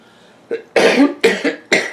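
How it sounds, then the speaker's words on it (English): A person coughs several times in quick bursts, close and loud, after a brief throat sound, with mold in the air. "Excuse my cough today, folks."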